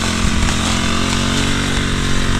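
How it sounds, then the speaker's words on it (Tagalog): A grass cutter runs close by with a continuous rough, buzzing engine drone that holds steady and loud without pause, on a farm where calamansi is grown. "May nag-grass cutter dito kakalads oh."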